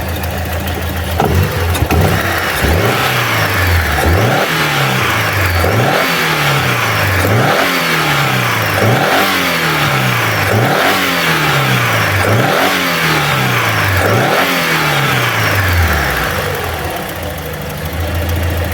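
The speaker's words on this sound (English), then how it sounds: "Let me just present you here with some accelerations on this beautiful engine." A loud Alfa Romeo 33 1.5 boxer engine with misfires revs repeatedly in a steady series of sharp rises and falls, roaring up then dropping back toward idle about every second and a half.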